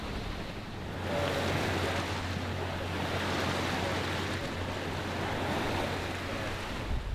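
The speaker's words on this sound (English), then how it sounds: "No motor, just the wind and the waves." Wind and waves around a sailboat running without its motor on a Caribbean night passage, a loud, steady rush of water and surf with a constant low hum underneath, no voices.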